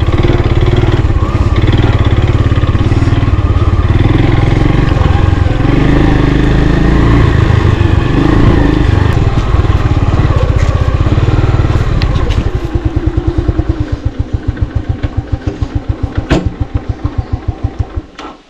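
An old, battered GMI motorcycle runs loud and close, its engine roaring steadily before easing back into a rough, evenly thumping idle.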